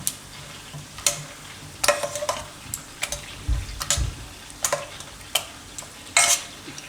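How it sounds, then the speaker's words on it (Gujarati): Boiled vegetables for Jain pav bhaji being pressed and mashed with a masher in a pan, giving irregular soft squelches and sharp taps against the metal, close and clear with no talk. "તો આને આપણે થોડુંક મેશ કરી લેવું."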